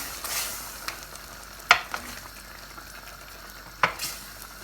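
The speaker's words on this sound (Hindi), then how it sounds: "ब्लैक पेपर, बाजल, ऑरिगेनो। अब हम मिक्स करेंगे।" A spoon stirs homemade pizza sauce with black pepper, basil and oregano, giving soft wet swishes and a couple of sharper taps against the bowl, close and quiet with no voices.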